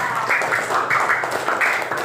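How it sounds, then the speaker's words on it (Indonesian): Children in a classroom clap together for a classmate, a close, steady run of patterned claps repeating in short bursts with no talking. "Ya, tepuk tangan buat Kasman Merdeka."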